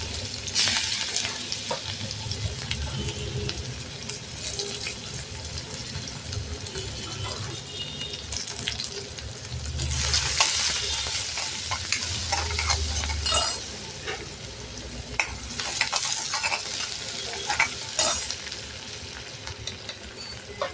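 Curry leaves, cumin seeds and onion frying in hot oil, a continuous close sizzle with spatula stirring and scraping, swelling in louder bursts at times, no speech.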